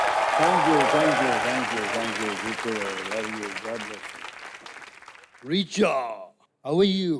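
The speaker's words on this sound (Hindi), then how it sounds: "जोरदार तालियां हो जाए धर्म जी के लिए।" A studio audience claps loudly for Dharmendra on a television entertainment show, steady applause that fades as he speaks warmly over it, followed by a voice.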